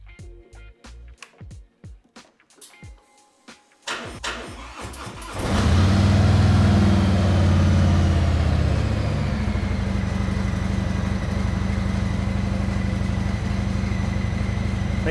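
A motorcycle engine starts after several seconds of clicks and handling noises, then idles in a steady, close, throbbing rumble that continues to the end.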